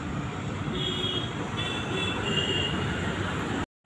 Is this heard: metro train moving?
yes